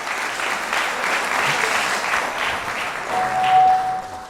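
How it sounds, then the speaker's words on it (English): A large audience at the Women's Africa Cup of Nations draw ceremony breaks into loud, sustained applause that swells and holds close to the microphone for the full four seconds. "with a very big round of applause, please help me welcome"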